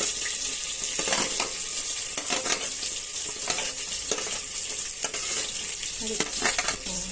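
Onion and green chilies frying in hot oil in a pan, a steady bright sizzle with intermittent stirring scrapes and clinks throughout.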